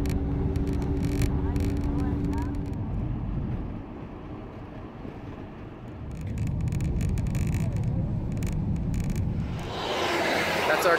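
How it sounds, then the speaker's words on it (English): A colectivo minibus pulls away from a roadside stop near the Maras turnoff, its engine rumble rising and then fading with wind noise, while people talk nearby. "That's our collectivo leaving right there."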